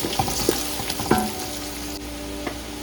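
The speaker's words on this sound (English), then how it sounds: "While the onions are frying and becoming golden brown" Onions fry in hot oil for chicken biryani with a continuous close sizzle, broken by a few sharp scrapes and knocks as they are stirred now and then.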